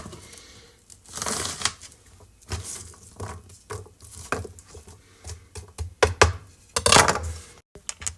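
A knife chops onions on a board while Zuppa Toscana is being made, giving irregular crisp cuts and taps, some in quick clusters, moderately close with quiet pauses between and no talk.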